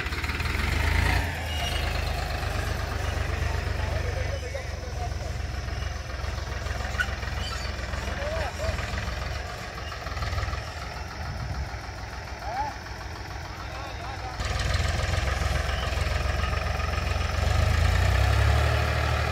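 Farmtrac 30 tractor engine runs steadily while working soil in a field, a loud continuous diesel rumble throughout with brief dips, and someone talks intermittently over it.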